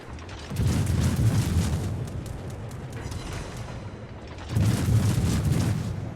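Heavy naval guns on the Royal Navy cruiser Neptune in World of Warships fire in two big booming salvos a few seconds apart, each a loud low blast with a long rumbling tail.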